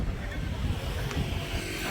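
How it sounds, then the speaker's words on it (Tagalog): Wind blows hard at night by the sea near Jones Bridge, a steady rumbling buffet against the microphone with low roaring gusts throughout. "Ang hangin dito."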